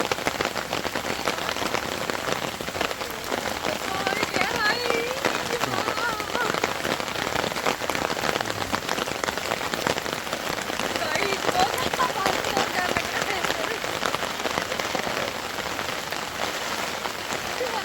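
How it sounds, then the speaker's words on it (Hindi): Heavy rain pours steadily and loudly throughout in a Himachal Pradesh mountain village, a dense hiss of drops beating on surfaces with no break. "पानी बारिश ही तेज़ हो गई है"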